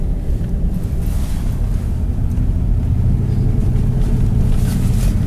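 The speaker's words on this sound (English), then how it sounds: "right now we have our 4x4 locked in high, so we have full traction." A 4x4 locked in high range drives along a windy Tulameen road in winter, its engine and tires making a loud, continuous low rumble mixed with wind buffeting, with no talk.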